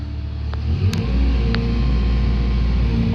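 A tracked excavator crawling up onto a lowboy trailer, with a heavy, steady low engine rumble that stays loud and close throughout and a few faint metallic clanks on top.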